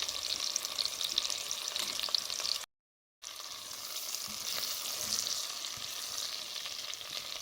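Salted onion sautéing in oil in a pan, a continuous close sizzle and hiss that drops out briefly near the middle, then resumes steadily with no talking.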